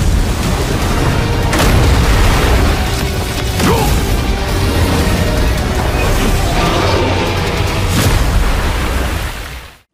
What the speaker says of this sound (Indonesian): Sekali lagi ledakan yang dahsyat terjadi